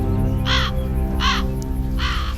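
Crows give three separate loud caws at roughly even intervals over a constant low mechanical hum, each caw harsh and slightly drawn out.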